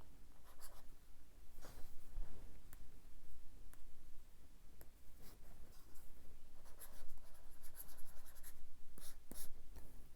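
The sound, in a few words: stylus writing on e-paper tablet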